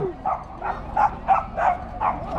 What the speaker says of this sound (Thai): อันนี้ก็เห่าเถียงกัน